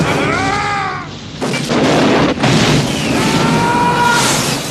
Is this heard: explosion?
yes